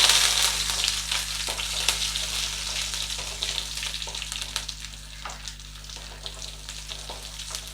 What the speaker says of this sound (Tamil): நல்லா வதக்கிப்போம் வெங்காயம் நல்லா வதங்கிட்டு